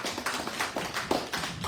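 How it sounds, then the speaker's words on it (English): Applause at a City Island community meeting, with a short burst of clapping from the gathered crowd that sounds like a room of hands patting out several soft, uneven rhythmic claps. "Let's give her a round of applause."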